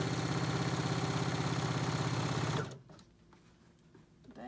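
A Bernette B77 computerized sewing machine runs fast and loud while stitching through two layers of denim, a steady rapid mechanical whir that cuts off abruptly partway through, leaving a quiet room with a few faint clicks.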